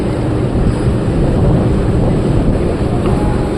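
A ship's engine gives a steady low rumble at about 650 RPM, continuous and dense, with wind noise over it and a faint wash of water; no voices.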